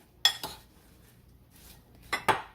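A spoon scraping and clinking against a bowl while sugared berries are mixed, two quick pairs of bright metallic knocks separated by near silence.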